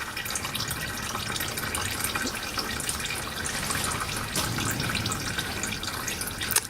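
Engine oil drains steadily from a 2013 Lexus CT200h during a service, a continuous trickling, splashing stream of liquid that stays fairly even and close throughout, with no talking.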